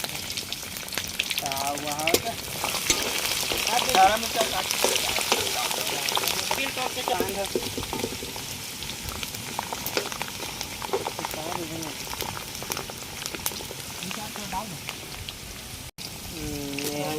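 Cumin and garlic crackle in hot oil on a tawa at an outdoor village picnic, making a steady, rain-like sizzle close by, with people chatting throughout.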